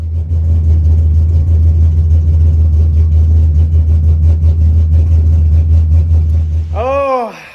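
A car engine idles loudly and close with a steady, deep rumble and slight roughness, holding evenly for about seven seconds before a voice cuts in at the end.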